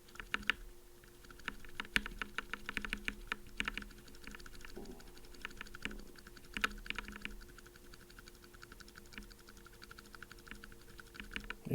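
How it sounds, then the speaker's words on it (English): Mechanical keyboard fitted with UHMWPE switch stems, typed on steadily and up close, producing a soft, quiet patter of keystrokes with a faint swishing character and no talking. "this little swish swish noise that I was talking about that the UHMW stems have."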